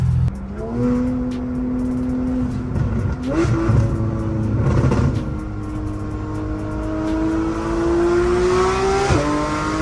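A tuned Porsche with an aftermarket exhaust drives along a road, its engine droning loudly and climbing steadily in pitch through the gears, with a brief shift or blip partway and another near the end.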